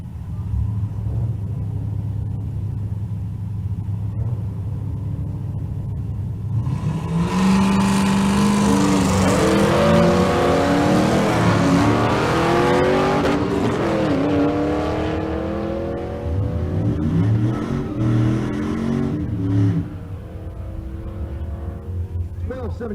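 A 1971 Challenger and a 4th-gen Firebird launch side by side in a drag race. After a steady idle rumble, both engines suddenly rise into loud, climbing revs with gear shifts, then fade as the cars pull away. An announcer talks over the noise.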